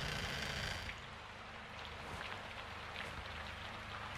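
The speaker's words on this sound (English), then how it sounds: "It's raining fucking hard." Heavy rain falls in Call of Duty: Modern Warfare II, a steady, close downpour hissing and pattering on surfaces with faint trickling water, no voices heard.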